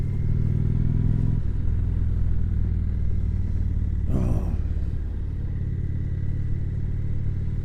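A 2019 Indian Chief Vintage motorcycle rumbles steadily close by while riding, its low engine drone continuous throughout with a brief rising burst of wind or revving noise midway.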